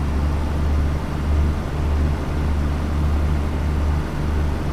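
A train pulling away on the Thames Valley Branches in Train Sim World 6, heard as a steady, moderately loud low rumble with a faint, even mechanical hum and no voices.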